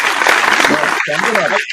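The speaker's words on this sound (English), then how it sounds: "A little round of applause for that." Applause from a small group, dense clapping under talking voices, fading briefly near the end.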